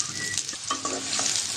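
Chopped onion frying in hot oil in a wok: a continuous close-up sizzle with brief stirring scrapes and spatters over a short stretch.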